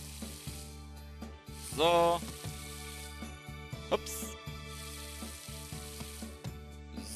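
A watering can sprinkles crops in the Harvest Moon farming game Deine Tierparade, giving a brief bright splashing, sizzling burst over steady background game music, with someone briefly speaking in German.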